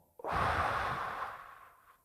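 A single deep breath drawn in sharply, then slowly exhaled as a long, airy sigh that fades over about two seconds, close and alone with no talking.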